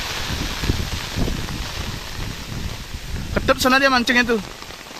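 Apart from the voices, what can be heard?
rain and wind while fishing in Bali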